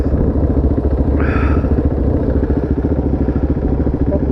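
A motorcycle rides through corners on a track with its engine droning steadily and loudly close to the microphone, laced with wind rush and rattling, one brief rising whine partway through.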